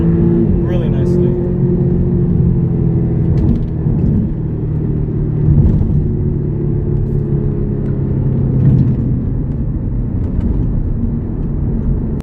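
A 2012 Audi TTS engine rumbles steadily and loudly from inside the cabin as the car accelerates out of a turn after a braking downshift, while a person talks over it.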